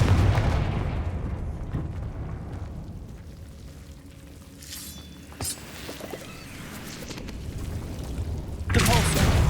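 Explosive Confringo spell blasts in the Hogwarts Legacy video game boom out in loud, rumbling bursts, with a sharp crack midway and another heavy blast near the end, while a voice speaks.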